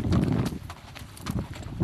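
Horse hooves clip-clopping along a trail in Escalante Canyon, a few close, uneven thuds of steps on the ground heard beneath a person speaking nearby.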